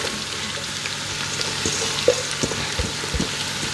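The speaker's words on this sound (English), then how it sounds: "we're just going to fry those off" Chopped onions frying in olive oil and butter in a pan, a close, steady sizzle with occasional sharp pops and stirring scrapes.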